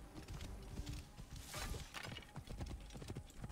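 Horse hooves clip-clop steadily in the Assassin's Creed Origins video game, a fast, even gallop of soft thuds heard close up under a wash of wind and ambient game sound.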